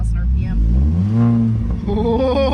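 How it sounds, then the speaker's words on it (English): A 2016 Ford Focus engine revs up from idle and settles back, a rising and falling engine note heard close by and loudly, with voices talking over it. "It makes a pretty good sound when you're when you start it. You rev the engine."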